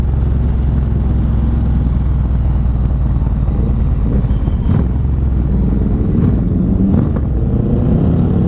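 A car passes by on a wet road during a motorcycle ride, its engine rumble steady under constant wind buffeting, with a brief swell in the middle as it goes past nearby.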